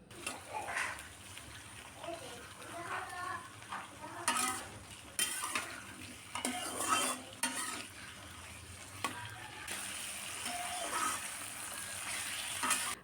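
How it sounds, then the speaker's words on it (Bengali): Cut potatoes frying with salt in hot oil in a wok, a steady sizzle with scraping stirs and utensil clinks, close and continuous, with some quiet background voice. "তেল গরম হয়ে আসলে কেটে রাখা আলু স্বাদ মতো লবণ দিয়ে ভালো করে ভেজে নেব।"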